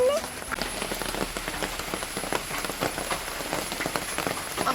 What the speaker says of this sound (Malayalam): പുറത്ത് നല്ല മഴ ഉണ്ട്.